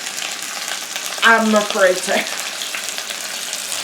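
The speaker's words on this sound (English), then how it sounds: "It is real butter, but it pops like margarine." Beef rouladen sear in real butter with a steady frying sizzle and occasional pops, while a voice talks over it.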